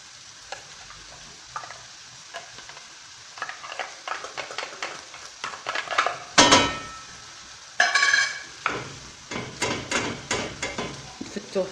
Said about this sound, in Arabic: يتقلى حتى هو معاهم باش كامل المقادير تاعنا تندمج